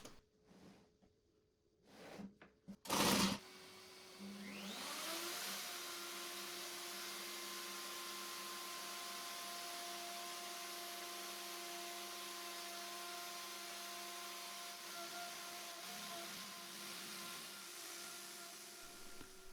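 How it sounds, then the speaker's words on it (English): Router fitted with a radius cutting jig starts up after a few knocks and whines steadily at high speed while cutting through a desktop, a constant faint tone lasting to the end. "Now I could attach my radius cutting jig with the router and cut through the desktop in 3 or 4 light passes."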